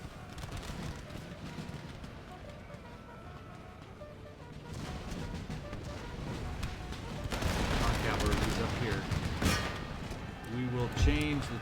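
Artillery and musket fire crackle through an Empire: Total War battle, dense rolling volleys and scattered shots building in intensity toward the end, with someone talking over the distant din.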